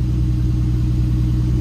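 A turbocharged BMW M50 engine in an E30 idling smoothly, a steady loud low rumble with an even pulse and no talking.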